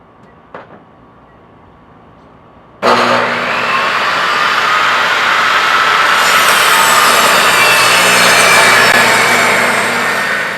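After a short quiet lead-in with a small knock, a power saw starts abruptly and cuts through wood strips in one long, loud, steady buzzing pass.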